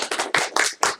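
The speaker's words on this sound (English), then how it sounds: "if we can just welcome her with a quick round of applause" A quick round of audience applause welcoming a speaker at an informal talk: a short, close burst of clapping in several uneven pulses.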